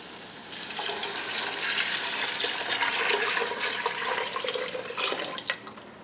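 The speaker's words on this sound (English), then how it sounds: "You need 8 cups of water." Water poured into a pot for lentil soup in a home kitchen, a steady rushing splash that begins abruptly and runs continuously for several seconds before tapering off.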